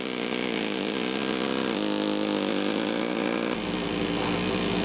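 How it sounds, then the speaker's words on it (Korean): A drill cuts stone at a large granite quarry, a loud, continuous grinding roar with a harsh, steady tone that shifts slightly partway through. "선에 맞춰 각지게 돌을 자르는데 조금만 드릴이 빗나가도 돌이 부서질 수 있어"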